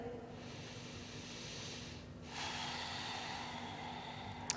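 Deep, slow breathing during a yoga pose: a long, soft exhale followed by a fuller inhale, close and quiet, with no talking.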